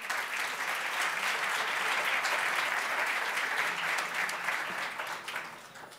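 Audience applause fills a university hall at an employability and entrepreneurship forum, a steady sustained clapping from many hands that holds evenly for several seconds before easing slightly.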